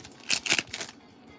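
A stack of trading cards gets shuffled in a few quick riffling bursts, crisp and close, then settles into near quiet.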